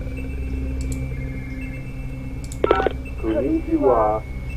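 A telephone in The Grudge horror video game rings with a short electronic burst of tones, followed by warbling, chirping electronic sounds over a steady low background hum.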